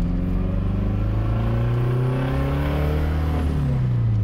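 A loud diesel engine revs and its pitch rises and dips in waves, with a faint high whistle as a turbo spools up. Nobody speaks.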